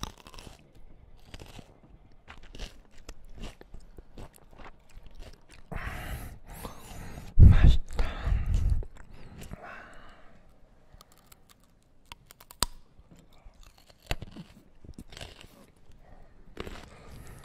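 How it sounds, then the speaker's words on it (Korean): Crisp, close bites and crunchy chewing of a carrot, with snapping crunches and a loud cluster of crunching in the middle, separated by quieter pauses. "당근을 먹겠습니다."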